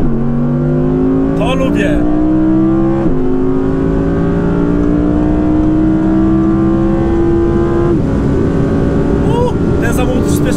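Audi R8 Green Hell Edition with a 620 hp 5.2-litre V10 engine, loud and close, holding a droning pitch that steps up sharply at each downshift, while someone speaks briefly over it.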